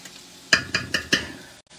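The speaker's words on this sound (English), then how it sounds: "going to throw in some garlic, y'all, some minced garlic" Minced garlic tossed into a hot pan gives a steady frying hiss broken by four evenly spaced scraping stir strokes, close and fairly loud, before cutting off abruptly.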